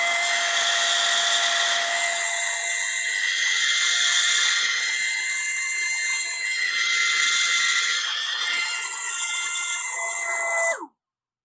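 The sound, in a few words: hovercraft hovering with its fan running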